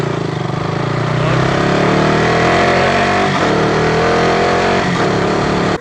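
A motorcycle engine holds steady revs around 4000 rpm, up close and loud, with a sustained droning hum and only slight wavering as the clutch is eased out by a beginner rider.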